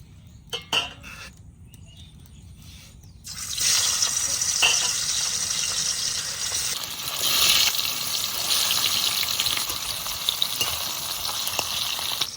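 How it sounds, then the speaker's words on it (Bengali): Hilsa fish fries in hot mustard oil in a wok: a few quiet clinks first, then a loud, steady crackling sizzle that swells and holds to the end, with no talking. "ইলিশ মাছ বেশি ভাজবো না, এক পিঠ ভাজা হয়ে গেছে"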